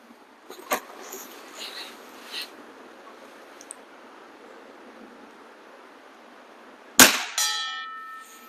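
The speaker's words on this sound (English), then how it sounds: "This thing really rings that chime nicely, doesn't it?" A heavy pellet from a Weihrauch HW80 air rifle strikes a metal chime target at 60 yards, giving one sharp clang that rings on with a bright, decaying metallic tone after quieter outdoor background sounds.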